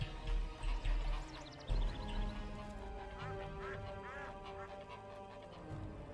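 Geese in The Witcher 2 let out a few scattered honks and quacks. They sit over game music and ambience, and a voice talks through part of the passage.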